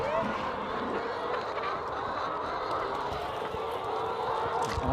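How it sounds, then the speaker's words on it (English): Dense chatter of hundreds of inquisitive chickens crowding a farm coop, a steady close-up mass of clucking and squawking that runs unbroken and fairly loud throughout. "try and make my way through hundreds of inquisitive chickens so I can get to the inside of the coop"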